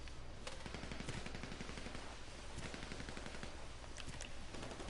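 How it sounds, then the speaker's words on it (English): Dense rapid gunfire crackles across a video game battlefield, with steady automatic bursts and scattered sharper shots packed together for the whole stretch, loud and continuous with no talking. "I hear like some kind of like grenade or something"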